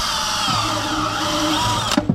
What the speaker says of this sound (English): I'm going to get my drill in there and pre-drill some holes